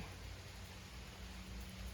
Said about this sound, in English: It's raining. It's raining, and it's very welcome.